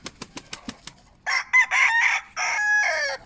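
A few quick taps or clucks, then a rooster crows loudly nearby in one long drawn-out call.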